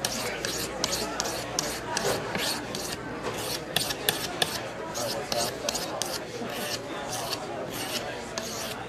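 A knife is sharpened on the finer side of a carborundum stone. Rhythmic rasping strokes repeat steadily, close and clear, over a faint hum.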